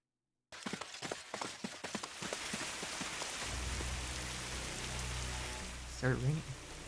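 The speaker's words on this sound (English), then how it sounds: "Started raining." Rain in the mobile game Fate/Grand Order starts as scattered drops and taps, then becomes a dense, continuous downpour with a low rumble. A voice briefly breaks in near the end.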